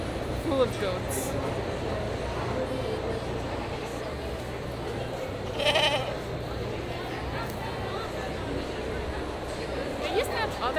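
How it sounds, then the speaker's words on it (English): Several goats in a busy Minnesota State Fair livestock barn bleat now and then, one louder call standing out midway, over constant crowd murmur and a low ventilation hum, with visitors talking close by. "This seems to be only goats."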